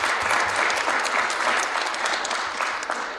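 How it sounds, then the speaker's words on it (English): Audience applause at a NSBE 2025 aerospace and defense event, a steady dense wash of clapping lasting the whole stretch and fading slightly at the end, with no voices over it. "Let's clap it up for everybody."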